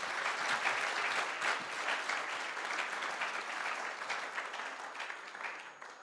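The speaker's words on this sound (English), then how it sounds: "All right, can we get a big round of applause for our full class?" An audience applauds a graduating class of guide dogs and their handlers, with warm, lively clapping that swells early and then gradually tapers off toward the end.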